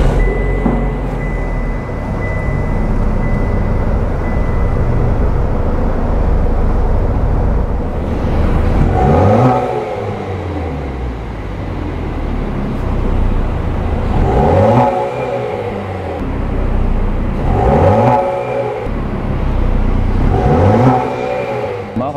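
A 2020 Chevrolet Camaro with a 2.0 engine idles with a rumbling exhaust, then revs up and drops back several times in short bursts, loud and close.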